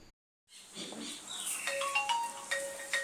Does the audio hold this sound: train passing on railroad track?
no